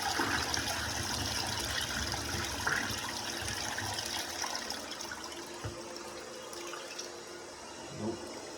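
A toilet flushes a whole roll of toilet paper, a steady rushing and gurgling of water that goes on for several seconds at moderate level, with a few faint knocks and no talk.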